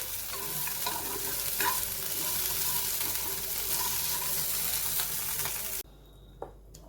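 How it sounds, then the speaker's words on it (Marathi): Radish greens and chopped radish pieces sautéing in a pan, a dense continuous sizzle with stirring scrapes, close and fairly loud, cutting out near the end to a quiet room with a faint knock. "तर तो मी तुकडे करून याच्याबरोबर परतून घेते"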